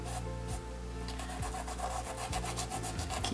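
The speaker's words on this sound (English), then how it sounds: "keep rubbing till I rub it in" A paintbrush rubs acrylic paint into canvas, a steady close scratchy scrubbing with rhythmic strokes, loud and continuous with no talk.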